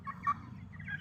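Young broiler chickens, 24 days old, cluck and chirp in a short burst of soft, close calls over a low background murmur.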